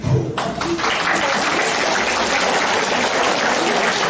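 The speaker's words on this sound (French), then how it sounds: "je crois que rien que pour ça, on peut l'applaudir" Applause breaks out at a Christmas dinner for M. Delaunay, starting with a few sharp claps and a voice before settling into a loud, steady clapping that fills the room.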